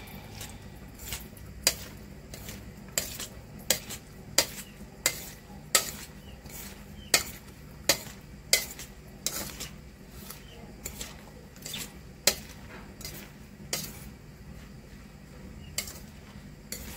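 Utensil scraping and clinking in a bowl while ingredients are mixed with a teaspoon of salt, in a steady rhythm of sharp ticks and knocks, close and fairly quiet, with no talk.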